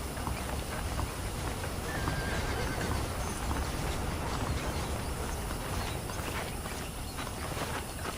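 Horses in the Red Dead Redemption video game whinny and neigh with steady clip-clopping hooves, all over a constant loud dense ambient bed of outdoor noise.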